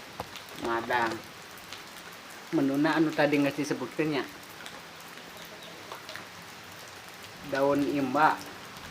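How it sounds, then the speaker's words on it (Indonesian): Light drizzling rain falls steadily on an outdoor surface during a rainy late-afternoon meal, a soft constant patter under intermittent conversation from a few nearby voices. "berkabut hujan gerimis"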